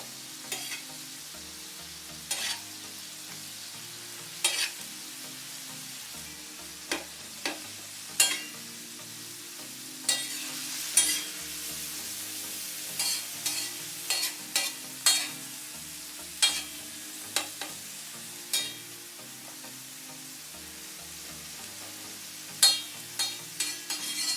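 Mutton keema on a flat iron tawa is stirred with salt, turmeric and red chili powder, a spatula scraping and clacking in irregular near strikes over a steady low sizzle, with no voices.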